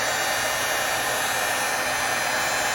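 A heat gun used for embossing blows in a steady, loud, continuous hiss and whoosh of hot air held close, with no talking.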